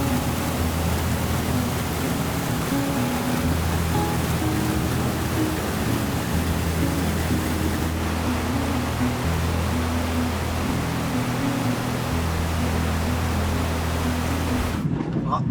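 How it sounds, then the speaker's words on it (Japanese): The Oirase mountain stream in Aomori rushes and splashes in a loud, constant roar of turbulent water close by, broad and unbroken throughout, with no speech. "この辺がこんな感じで水しぶきを上げながら激しく流れているのがよく分かりますね"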